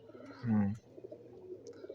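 A single low, throaty coo from a domestic pigeon in a loft rises briefly and fades, followed by quiet background rustle.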